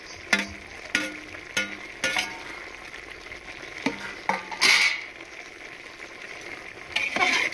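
Tomatoes frying in a pan for chicken tahari are stirred with a utensil, giving repeated scraping clinks and taps over a steady sizzle. No one speaks.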